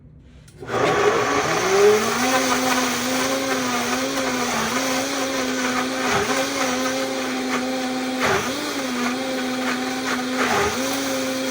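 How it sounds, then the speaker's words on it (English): A blender whirs loudly and steadily blending cauliflower soup, its motor pitch dipping briefly now and then as the contents churn, with no talking. "This is gonna be noisy for a minute, so while this is blending"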